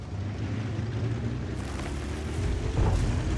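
A Bat.-Châtillon 155 55 artillery piece fires a round in a video game, a deep booming blast rising over a steady low rumble, with a sharper burst late in the moment.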